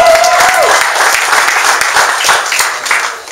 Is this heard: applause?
yes